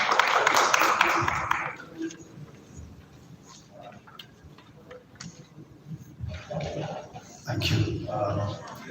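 An audience bursts into a brief round of applause to welcome a speaker, loud at first and then fading, with scattered claps and voices following and a second swell of clapping near the end.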